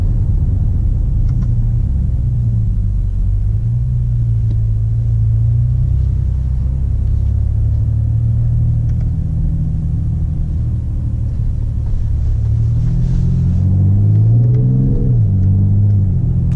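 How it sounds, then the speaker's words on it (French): A heavy diesel engine of a BMW X5 M50d SUV rumbles steadily at close range, its low drone rising and falling as the revs climb near the end. "Le bruit pour un diesel, c'est ouf."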